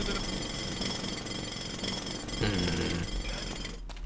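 A drill in a video game grinds out a continuous loud, rattling mechanical whir like a jackhammer, steady for the whole stretch with a brief surge partway through.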